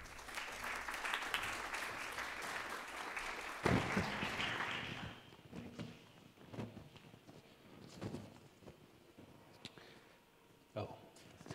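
An indoor audience at an evening artist talk claps steadily for several seconds, then the applause thins out into scattered shuffling and footsteps as a person begins speaking.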